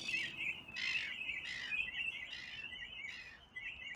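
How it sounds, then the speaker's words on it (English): Australian miner birds call repeatedly from fairly close by, a series of loud, harsh chirping bursts in quick succession over a quiet outdoor background, with no talk. "I think they're Australian miners"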